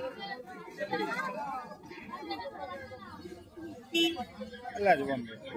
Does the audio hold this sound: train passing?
no